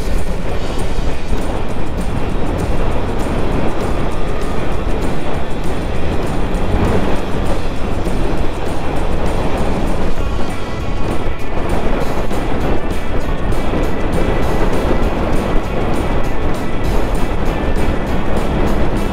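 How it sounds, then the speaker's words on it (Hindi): Strong monsoon wind buffets the microphone on the fog-covered Kaas Plateau, a loud, constant roaring rumble that carries through the whole stretch without any speech. "हवा का प्रेशर बहुत ज़्यादा है।"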